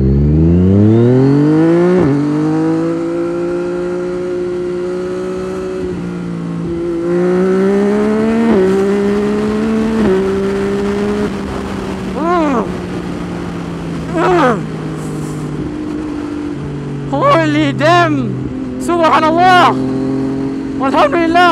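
A Yamaha MT-09 V2 motorcycle engine drones and revs through rising and falling gear changes while riding, loud and close, with a few sharp high whines near the end.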